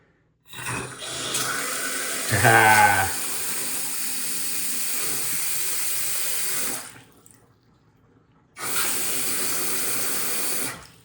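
Water gushes steadily from a newly replaced kitchen sink faucet, a loud continuous rush that stops briefly around the seventh second and then resumes at full flow.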